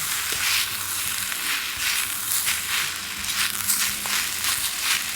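Canned fish fried rice stir-fried in a pan, a steady close sizzle with scraping and stirring throughout, no voices.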